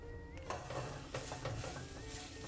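Two cloves of minced garlic fry in a lightly oiled pan over medium heat as a spoon scrapes them around, giving a quiet sizzle broken by repeated stirring scrapes and light utensil taps.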